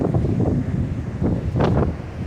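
Strong wind gusting at around 50 miles an hour buffets the microphone in a steady, loud roar, with no voices.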